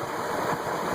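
A Chevrolet Trailblazer's 4.2L engine idles at about 600 RPM while showing low oil pressure. It makes a steady, loud, close-up roar with no clear change across the short moment, and no voices.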